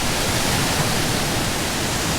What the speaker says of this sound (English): We have the main waterfall, and then a branch of it comes down this way.